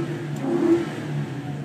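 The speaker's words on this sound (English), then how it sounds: "So let me rev that up for you." A 2000 Ford Crown Victoria sedan's engine revs once, swelling to a brief peak and settling back to idle, heard moderately close with no talking.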